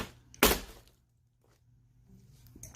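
A TV screen of glass or plastic is smashed with a wrench: one sharp, loud breaking crash near the start, then quiet with faint small rattles afterward.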